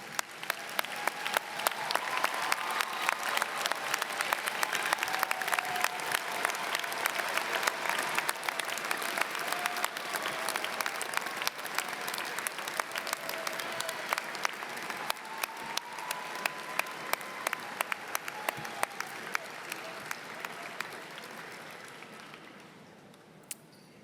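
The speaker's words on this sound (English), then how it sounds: "Graduates of the class of 2025, please rise and applaud those who helped you" Graduates and their audience at a university commencement applaud together in a long, dense wave of clapping that stays loud and even for about twenty seconds and then fades out at the end.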